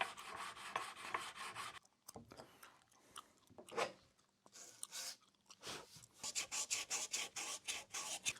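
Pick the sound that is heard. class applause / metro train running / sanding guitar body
sanding guitar body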